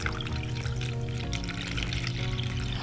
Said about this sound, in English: I'm gonna pour the bleach right in there